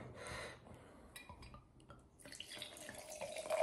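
A clear drink poured from a bottle of international snack-aisle beverage, a close, quiet trickle and splash of liquid into a container, with a faint clink partway through and no talk.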